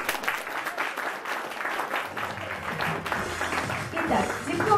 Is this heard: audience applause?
yes